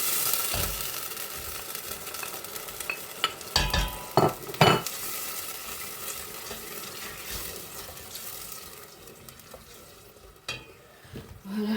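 Peeled tomatoes and garlic go into a hot pan, sizzling and frying with scraping stirs and a few sharp clinks of the utensil, fairly close and with no voices.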